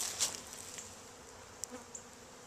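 Carniolan honey bees at the entrance of a newly installed hive, a faint steady buzz with a few close individual bees darting past.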